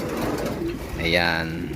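Racing pigeons coo softly nearby while being sorted into a training box on a derby loading night; someone speaks over the low, rolling coos.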